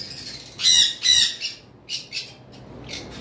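A male sun conure parrot gives two loud, harsh squawks close by, followed by several shorter, softer squawks and chirps spaced through the rest of the moment.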